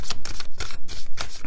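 Deck of playing cards being shuffled, a quick run of about seven crisp riffling bursts in an even rhythm, close and loud.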